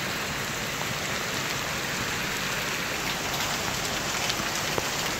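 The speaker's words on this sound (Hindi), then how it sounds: "आज सच में बहुत ज़्यादा धमाकेदार बारिश हो रही है।" Heavy rain pours down steadily, a dense, loud hiss of drops hitting surfaces with no break.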